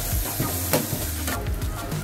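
Spices with cumin powder and turmeric being stirred in a sizzling pan for egg bhurji, a spatula scraping in quick, irregular strokes over a steady close frying hiss, with no talking.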